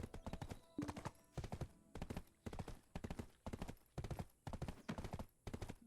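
Steady, evenly spaced clip-clop of horse hooves in the Black Desert online game, loud and close, the beat running throughout with no talk over it.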